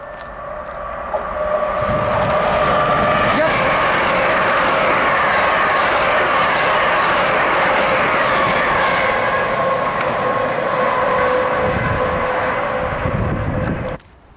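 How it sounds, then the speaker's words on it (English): An LNER Class 801 unit, 801 202, on an Edinburgh Waverley to London King's Cross service passes through Grantham on the East Coast Main Line. It arrives as a loud, steady roar of wheels and rushing air that holds for about twelve seconds, then cuts off abruptly. "Passing by now, we should have an LNER service from Edinburgh Waverley to London King's Cross"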